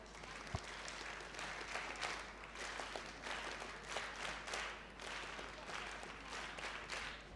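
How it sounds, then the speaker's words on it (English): Audience applause at a school valedictory ceremony, a sustained, fairly distant bed of clapping from a large group with a low hum underneath, steady in level throughout. "Let us give each one of them a big round of applause."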